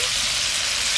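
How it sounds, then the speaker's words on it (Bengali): Hog plums sizzling and frying in a hot pan with cumin, a steady close hiss of oil running without pause. "আমড়াটা একটু কষিয়ে নিচ্ছি"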